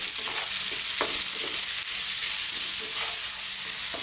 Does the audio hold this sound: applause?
no